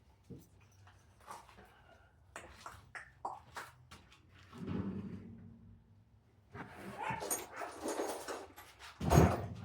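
Dogs whimper, yip and bark at home, with thin whines early on building to louder, busier barking and a sharp yelp near the end, close by and mixed with brief vocal sounds.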